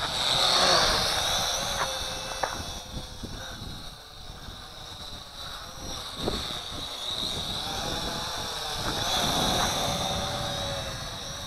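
A ZC Toys Z1 toy quadcopter drone flies in gusty wind, its small rotors giving a high, buzzing whine that swells and dips as it moves nearer and farther, with wind rumbling underneath.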